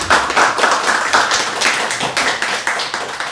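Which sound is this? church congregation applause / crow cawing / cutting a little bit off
church congregation applause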